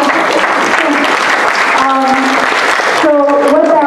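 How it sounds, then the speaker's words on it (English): Hands clapping from an audience at an all-candidates election meeting, loud continuous applause filling the room while a voice or two rises over it near the end. "take a moment to clap your hands"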